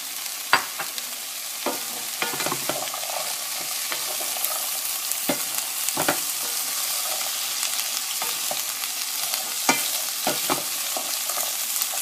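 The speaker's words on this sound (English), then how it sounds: "I'm going to go ahead and add my string beans to it and do another stir." String beans, potatoes and tomatoes being stirred in a hot pan, a constant sizzle broken by repeated sharp spoon scrapes and clacks against the metal, close up, with no talking.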